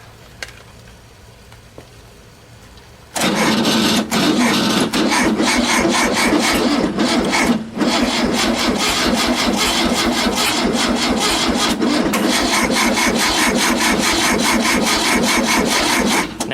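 A VW Super Beetle starter cranks the engine without it catching, a loud harsh continuous grinding whir that kicks in suddenly after a quiet moment and keeps going steadily for many seconds.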